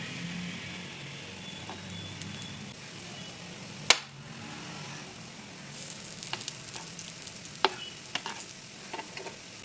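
Milagu adai fries in ghee on a pan with a soft, continuous sizzle, close but fairly quiet, marked by one sharp clack and a few light scrapes and taps later on; no one speaks.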